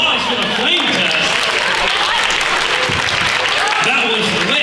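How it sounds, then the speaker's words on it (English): An audience at a school chemistry expo applauds after a flame test demonstration, with continuous loud clapping from a crowd and voices of people talking mixed in over it. "Let's give one more round of applause for the flame test."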